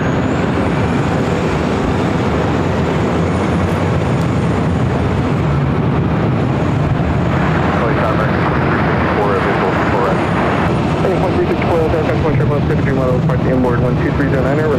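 An Embraer E175 operating as United Express, arriving at LAX from Fresno, gives a loud, steady jet roar that fills the whole stretch, with radio voices talking over it.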